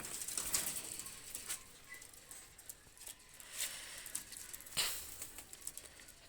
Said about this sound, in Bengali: দুইটা কবুতার ছেড়ে দেখাচ্ছি আমি দেখেন